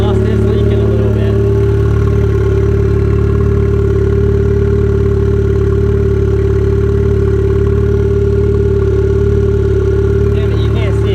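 A drift car's engine runs with a slightly leaking exhaust, a loud, steady, low idle drone held throughout, close and continuous with no talk over it.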